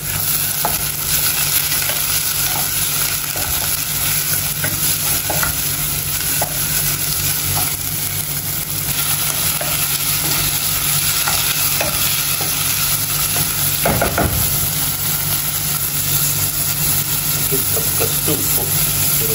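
Masala for a Mangaluru-style fish curry sizzles steadily in a hot pan while being stirred, a loud continuous frying hiss with occasional scraping, no talking.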